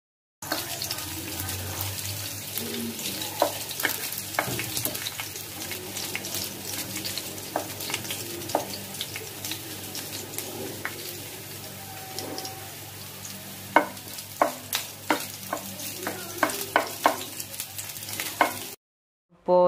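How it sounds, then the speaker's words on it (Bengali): Dried red chilies fry in a wok with steady crackling sizzle and occasional sharp pops and stirring clicks, close and continuous throughout, with no talking. "শুকনো মরিচটি ভালো করে ভেজে নিব, মুচমুচে করে ভেজে নিব"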